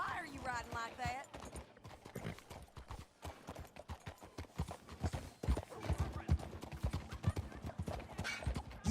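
Horse hooves clip-clop in a quick, loud, steady rhythm during a ride in Red Dead Redemption 2, with a whinny early on and voices talking over the hoofbeats.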